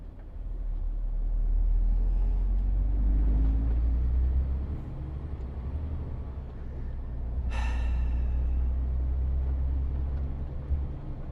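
Lorry and road traffic heard from inside a moving vehicle: a constant low engine and tyre rumble that swells and fades as vehicles pass, with one brief sharp rattle partway through and no talking.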